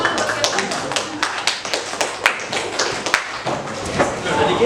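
A group in a classroom coaching session claps hands in uneven, loosely rhythmic slaps rather than a full ovation, with scattered talk mixed in.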